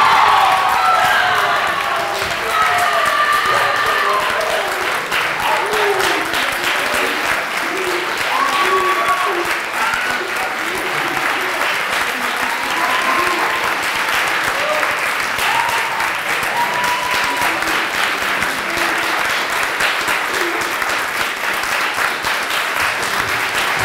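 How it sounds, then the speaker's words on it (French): A crowd at a debating cup final applauds a winning university team, with sustained, loud clapping lasting over twenty seconds, occasional cheers and whoops rising from the audience. "Est-ce qu'on peut applaudir aussi l'équipe du gouvernement?"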